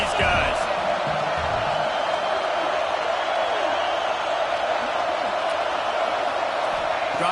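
A stadium crowd at a college football game roars in a dense, steady wall of noise with scattered whoops. The cheering holds at a constant loud level throughout.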